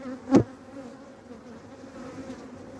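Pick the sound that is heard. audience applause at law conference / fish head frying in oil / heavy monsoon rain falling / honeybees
honeybees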